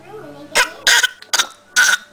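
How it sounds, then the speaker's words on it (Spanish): Four sharp, close coughs burst out in quick succession, with a short voiced sound before them. "¡Ay, qué tos!"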